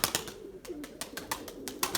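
Purebred white Erzurum pigeons coo softly in a loft, with a few low, rolling coos set among sharp, repeated clicks and taps close by.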